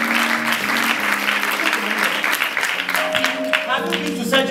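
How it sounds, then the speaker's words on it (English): Congregation clapping hands together in rhythm during a Sunday church service at Zoe Ministries, steady dense applause filling the room with a sustained musical tone underneath and some talking mixed in. "Come, clap your hands together, mother."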